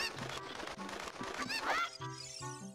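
Cuccos clucking and squawking in The Legend of Zelda: Ocarina of Time, several bird calls over a bouncy farm melody in the game.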